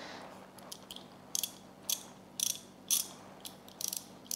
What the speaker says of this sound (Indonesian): yang pertama ada ya ratchet ya seperti ini